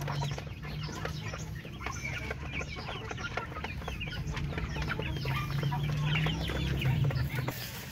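Native Filipino chickens, some around three months old and others about two months, cluck and chatter steadily in a busy flock, with soft calls overlapping continuously at moderate distance and no talking.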